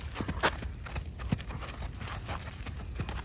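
A horse moving in a pacing gait sounds out irregular clip-clop hoofbeats, a few sharp hits over soft scuffing, close and moderately loud with no talk.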